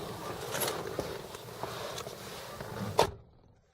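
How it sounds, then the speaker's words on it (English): Door of a 2001 Ford Explorer Sport shutting once near the end with a single solid, heavy thud, close by, after a few lighter handling clicks and rustles. "Nice solid thud. The door does feel a little heavy, which I like"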